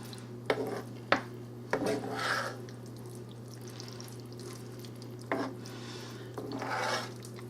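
A spoon stirring cheesy pasta and meat in a pan that is slightly too small, giving a few scraping clinks and soft, sticky squelches in short bursts over a steady low hum.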